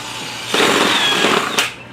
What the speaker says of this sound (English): We're going to drill just a small hole to secure our piece of pipe and our main water entry line right into the system itself.